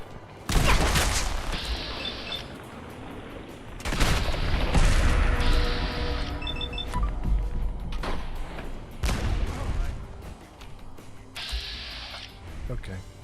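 Gunfire in the video game Fallout 4, with loud close bursts of rapid shots and heavy booms in several volleys, mixed with game effects, while a person talks over the action.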